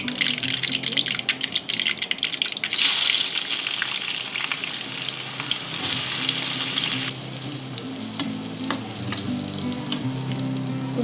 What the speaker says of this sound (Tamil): தாளிப்புக்கு ஒரு வாணலியில் எண்ணெய், கடுகு, கட் பண்ணி வச்சுருக்கிற வெங்காயம் போட்டுக்கோங்க